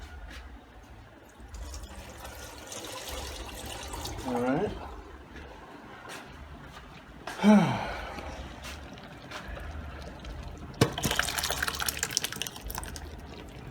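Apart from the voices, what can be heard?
pouring off water from cooked peas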